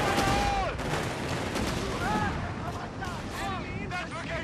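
Dense battle noise from Company of Heroes 3's Afrika campaign: sustained gunfire and impacts pound a Panzer tank without letup, while shouted voices and radio chatter run over the din throughout.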